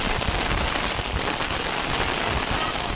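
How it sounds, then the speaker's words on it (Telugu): Rain pours steadily on a village during a women's frog ritual held to bring rain. It is a dense, even hiss with close drops pattering on surfaces the whole time, and no one speaks. "కప్ప కావడి వేసినందుకైతే ఈరోజు అయితే మంచిగా వర్షం అయితే పడుతుంది"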